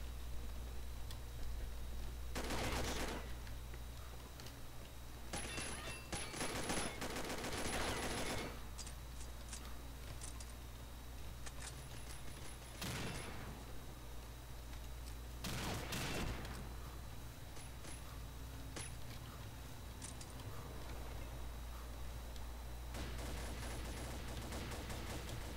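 A G36E assault rifle fires in the video game Combat Arms: several short, sharp bursts of shots at scattered intervals over a steady low background hum, fairly quiet overall.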